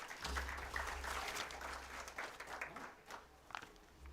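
Applause from the audience at the Science In Action 4.0 inauguration at The National College, Jayanagar, a soft, distant patter of clapping with a low hum beneath and scattered sharper claps.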